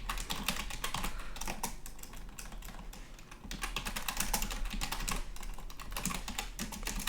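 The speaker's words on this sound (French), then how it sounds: "désolé pour les bruits de clavier" Rapid, steady clatter of computer keyboard typing, close and continuous, with brief pauses between bursts of keystrokes.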